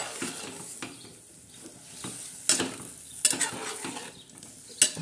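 Eggplant and potato pieces salted and frying dry in a pan, stirred with a spatula that scrapes and knocks against the metal a few times over a steady close sizzle, with no talking.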